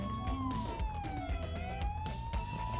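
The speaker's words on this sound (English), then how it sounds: "let's turn those sirens off" A police car siren wails in the GTA 5 video game, a loud sweeping tone with engine and crash noises beneath it.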